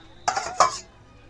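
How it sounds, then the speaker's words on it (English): A spoon stirs instant oatmeal with maple and brown sugar in a pouch, giving two short, close clinking scrapes about a third of a second apart, then quiet. "Give that a little bit of a stir."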